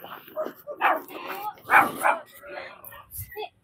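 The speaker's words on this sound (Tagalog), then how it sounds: "Parang galit yung aso" A dog barks and yips several times in short, irregular bursts, fairly close, with some vocal sounds mixed in.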